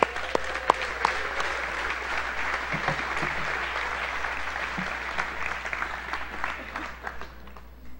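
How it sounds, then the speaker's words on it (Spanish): A church congregation applauds a guest speaker, sustained clapping from a crowd that starts strong and tapers off toward the end, with a little talking beneath it. "Un aplauso."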